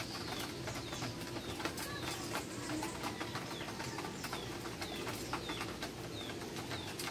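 Pigeons coo softly at a loft, repeated low murmuring calls with scattered chirps and faint wing sounds over a quiet background, no talking.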